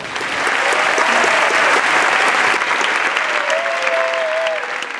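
An audience applauds steadily and loudly at the red carpet for the 2024 film Emilia Pérez, a dense, sustained wash of clapping, with a faint voice carrying over the crowd.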